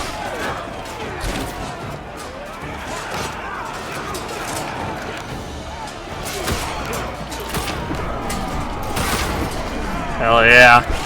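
Gunfire from enemies in Assassin's Creed Black Flag crackles in scattered volleys amid naval battle clamor, with intermittent shots and a louder burst near the end, under a speaking voice.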